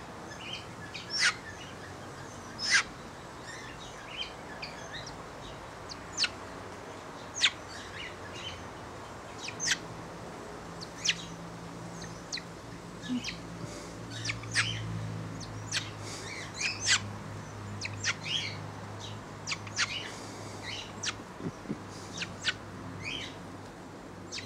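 A young pukeko, an Australasian swamphen, gives short sharp chirping peeps at irregular intervals over a quiet outdoor background.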